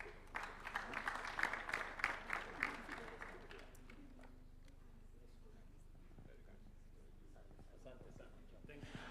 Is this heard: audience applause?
yes